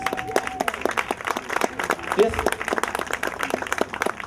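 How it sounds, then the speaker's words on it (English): Audience at a mural unveiling claps in a brisk round of applause, dense irregular claps up close with a few voices mixed in underneath. "I'd like to give you a round of applause, please."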